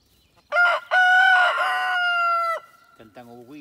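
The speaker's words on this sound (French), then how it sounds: "Voilà pourquoi on dit poule glousse" A hen in an old henhouse lets out a loud, drawn-out, strained call broken by a short gap, then falls quiet while a voice briefly murmurs nearby.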